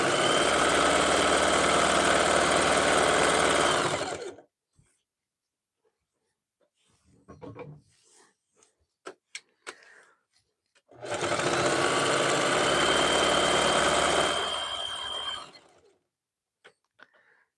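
A domestic sewing machine winds thread onto bobbins in two long, steady whirring runs separated by a pause filled with a few clicks and light handling noises, close and loud.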